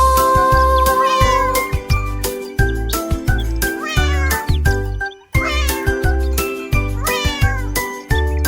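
Repeated cat meows, loud and close, rise and fall over a rhythmic musical beat with thumping bass.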